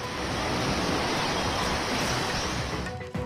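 The flooded Ganga river in Patna churns under a bridge, producing a continuous heavy roar of rushing water, close and loud, with a slight dip at the very end.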